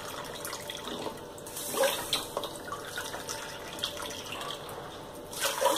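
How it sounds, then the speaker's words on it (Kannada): Water poured into a large idli cooker pot holding sugar, a soft continuous splashing and trickling with small surges, fairly quiet and close, no voices. "ಇದಕ್ಕೆ ನಾನು 8 ಕಪ್ನಷ್ಟು ನೀರು ಹಾಕ್ತೀನಿ"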